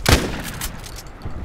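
A single rifle shot in Contract Wars, an AK-12 assault rifle fired in single-shot mode, gives one sharp, loud crack at the start and a brief decaying tail, with faint game ambience after it.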